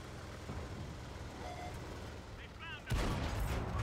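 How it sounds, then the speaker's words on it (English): In World of Tanks on console, a Spähpanzer Trailblazer's gun fires a sudden loud, booming report after a stretch of low, rumbling engine and battlefield noise. "we landed two of our shots and possibly a third"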